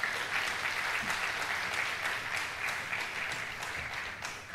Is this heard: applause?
yes